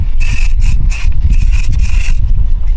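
An aerosol deodorizer sprayed onto a Ram 1500 cabin air filter, heard as a rapid series of short, close hissing bursts with brief gaps between them.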